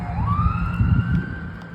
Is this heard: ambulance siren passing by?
yes